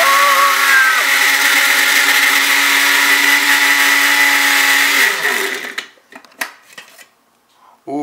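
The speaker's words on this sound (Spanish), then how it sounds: "Ponlos en la batidora." A blender whirs loudly and steadily for about five seconds before winding down, then a few faint clatters follow.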